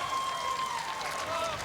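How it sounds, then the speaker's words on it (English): A stadium crowd at a college baseball game between Texas and Texas Tech cheers and applauds a caught fly ball, a broad sustained roar with whistles, under a commentator talking. "this crowd really just seems to be primed to make some noise and get excited about something, but Johnson was able to run that down"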